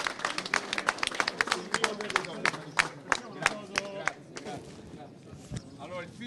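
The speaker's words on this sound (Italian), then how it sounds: "Giovanni Malagò, un applauso molto forte" Scattered hands clap sharply for Giovanni Malagò in a gym in Scampia, Naples, close and uneven claps that thin out over a few seconds, with voices mixed in.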